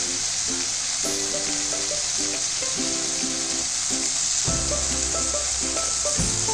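Guava pieces sizzle and fry in a pan with chili powder, giving a steady bright hiss with occasional faint stirring scrapes, close and even, no voices.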